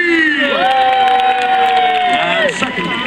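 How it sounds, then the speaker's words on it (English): Crowd at a Warwick Castle jousting tournament cheering loudly for an Italian knight, a dense wall of shouts and whoops with high children's yells and a long rising cry, sustained throughout. "I suggest a cheer for Sir Giovanni Acuto of Italy."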